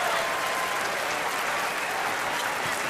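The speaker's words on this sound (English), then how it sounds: "And the Green Bay fans who are here with a nice round of applause as" Green Bay fans at a 2016 NCAA Tournament basketball game against Texas A&M give a steady, full round of applause, dense crowd clapping filling the whole moment.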